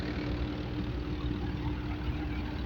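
A steady, loud mechanical drone of a tractor-driven thresher running continuously in Pambharkeda village while a trailer is filled, with a deep engine rumble and a constant hum throughout.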